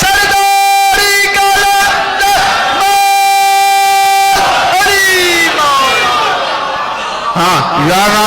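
A crowd at a Shia religious celebration for the birth of Bibi Sakina bint Husayn shouts a slogan chant in unison, loud and sustained, with voices rising and falling in repeated bursts.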